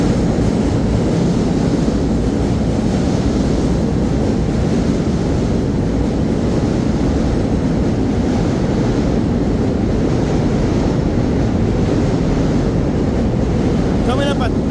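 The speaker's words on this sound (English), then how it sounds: "hold on, train" Subway train arrives at Division Street in New York City with a loud, continuous broadband rumble and roar that fills the whole stretch, close by and steady.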